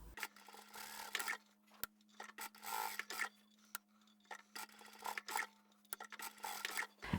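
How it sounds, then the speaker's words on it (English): Sewing machine putting a small edge stitch on each side of a fabric keychain card wallet, quiet stop-start bursts of needle whirring with sharp clicks between, close and faint against a low steady hum. "on the very edge, I'll just do a small stitch on each side."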